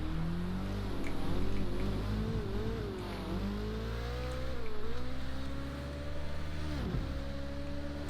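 A car in the video game Watch Dogs Legion drives along, its engine droning steadily and rising and falling in pitch as it accelerates and eases off, close and continuous throughout.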